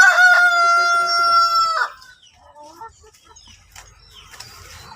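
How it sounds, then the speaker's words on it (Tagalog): A rooster crows loudly and close by for nearly two seconds amid a busy flock of farm chickens, followed by scattered softer clucks and faint background noise. "May mga chicken pa rito guys oh. May mga chicken. Pakadaming chicken guys."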